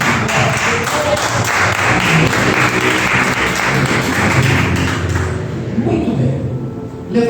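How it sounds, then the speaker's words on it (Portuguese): Church congregation applauding its Lord, a dense steady wash of many hands clapping loudly for several seconds, then thinning and fading near the end. "Você pode aplaudir ao nosso Senhor Jesus Cristo."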